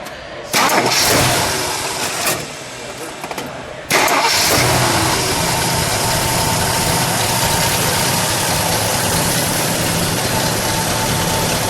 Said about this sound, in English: So let's fire it up, shall we?